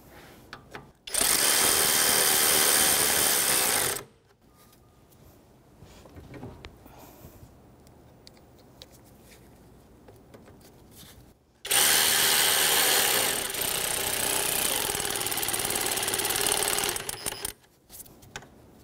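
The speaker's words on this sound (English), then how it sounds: "I'm going to drive them right in." A power driver with a 10mm socket runs self-tapping screws into the AC condenser cooling fan assembly of a 2005-2021 Nissan Frontier 4.0L, in two loud, steady whirring bursts of about three and six seconds, separated by quiet handling noises.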